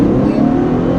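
A 2013 Infiniti FX37 engine revs hard during a 0-60 launch, a loud, steady, close engine roar that holds high through the whole second without a break.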